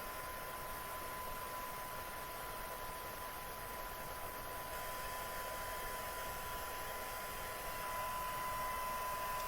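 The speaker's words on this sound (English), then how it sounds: "Definitely keep your heat tool moving." An embossing heat tool blows hot air over vellum with a steady, unbroken whir, like a hair dryer, constant in level throughout with no talking.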